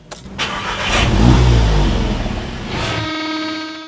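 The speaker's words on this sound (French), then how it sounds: "tournons la clé de contact et écoutons la sonorité du moteur" A Seat Leon Cupra engine cranks and catches, swells into a brief rev, then settles into a steady, low idle close by.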